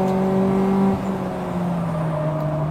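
Race car engine humming steadily at close range as the car drives on road tyres, a sustained droning tone that dips slightly in pitch partway through, with no talk.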